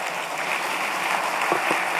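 Audience applause following a speech by Uhuru Kenyatta at a Goodluck Jonathan Foundation event in Nigeria, steady dense clapping from a large crowd filling the hall at an even level throughout.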